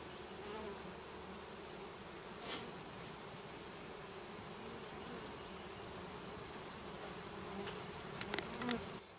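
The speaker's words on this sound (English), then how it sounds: "Although there's a lot of bees up in here" Honey bees buzzing around a hive during a package and queen installation, a steady, fairly faint droning hum that continues throughout, with a few small knocks near the end.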